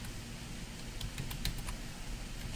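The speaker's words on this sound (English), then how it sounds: "I'm just going to type in patient" Light tapping on a computer keyboard, a short quiet burst of several keystrokes against a low background hiss.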